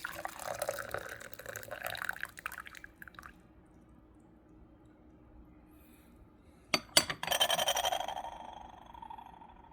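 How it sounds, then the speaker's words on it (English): The wash liquid of a 2018 Lincang wild sheng puerh tea ball is poured out in a thin trickling stream, followed after a pause by a clink of glass or porcelain and a brief renewed splash. "here's me pouring out that wash just to show you the color, show you what the wash liquid looks like"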